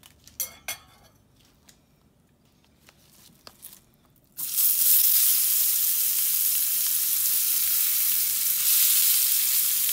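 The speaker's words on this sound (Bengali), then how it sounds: "আমি একটু পেঁয়াজ ভেজে নেব" Onions frying in a pan while preparing a mashed chicken liver dish, after green chilies were fried: a quiet stretch of clinks and kitchen handling, then a loud, steady hiss of sizzling oil that runs to the end.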